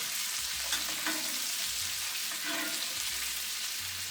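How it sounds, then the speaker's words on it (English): A steak sizzles in a hot pan while being basted, a steady crackling hiss with soft scraping and spooning sounds, fairly quiet and close. "and I'm going to keep basting"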